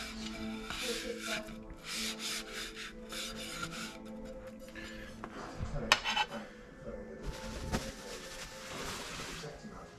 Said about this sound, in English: Flip it over, rub it in.